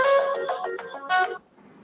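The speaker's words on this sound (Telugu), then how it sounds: "మీ ఫోన్ మోగుతుంది." A mobile phone ringtone plays a loud melodic tune at a gathering for an Ugadi celebration, several bright repeating notes over about a second and a half before cutting off, with only a faint tail after.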